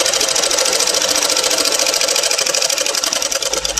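A sewing machine runs steadily, stitching a seam with a double-fold stitch on a tailoring project; the dense, even whirring hum is loud, close and continuous, with no talking.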